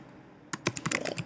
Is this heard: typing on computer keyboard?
yes